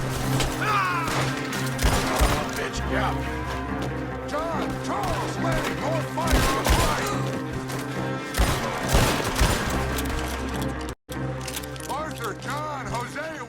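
Red Dead Redemption 2 video game gunfire during a manor siege: repeated rifle and pistol shots crack in an ongoing firefight, mixed with shouting voices and battle noise.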